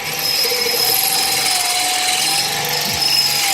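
A power drill whines steadily and close while boring out a broken exhaust stud on a Nissan 300ZX exhaust manifold, a continuous high motor tone with slight pitch wobble and a brief low knock near the end.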